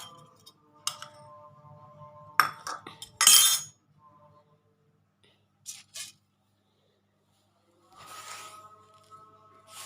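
Small toy kitchen utensils, a ladle, spatula and wok, clinking and clattering in scattered bursts of sharp metallic taps with quiet gaps between.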